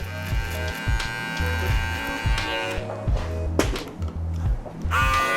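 An electric shaver buzzes steadily, close up, trimming a beard, its hum rising and dipping as it moves, with a low rhythmic thumping underneath.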